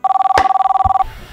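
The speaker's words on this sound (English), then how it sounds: "My phone is ringing." A telephone bell rings in a fast, steady pulsing trill for about a second, loud and close, then stops abruptly; a brief knock interrupts partway through.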